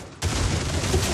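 Gunfire in the online MOBA shooter Paragon, beta version, erupts after a brief quiet start into a dense, continuous burst of rapid shots and impacts lasting to the end, loud and close.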